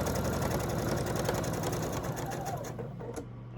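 A sewing machine stitching fabric for a quilt pattern runs steadily with a fast, even mechanical whir close by, then slows and stops near the end.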